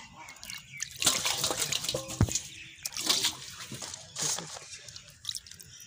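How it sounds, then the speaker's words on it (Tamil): Adathanda caper berries being washed by hand in water in a home kitchen: splashing, sloshing and dripping in irregular bursts, fairly close and moderately loud. "இந்த ஆதண்டங்காயை நல்லா கழுவிட்டு"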